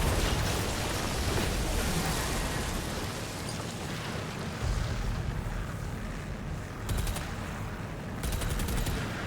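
Rapid gunfire rattles in DOOM: The Dark Ages, a dense and loud barrage of shots layered over constant game noise. Sharp staccato bursts come near the end, with no voices.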